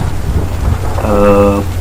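Steady rain falling in a broad, even wash that holds for the whole stretch, with a brief tonal sound rising over it partway through.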